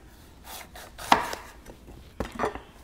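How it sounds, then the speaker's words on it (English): A knife cuts through a bell pepper in a few sharp chops against a board, with two distinct crisp strikes standing out between softer slicing sounds, close and alone. "how far down, how deep I have to make a cut so that I can get one slice"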